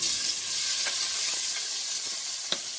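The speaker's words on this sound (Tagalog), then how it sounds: "Isusunod na natin itong white onion and red onion." Ginger with white and red onion sautéing in a pan for crab ginataan, giving a steady loud sizzle with a few brief stirring clicks and spatters and no voices.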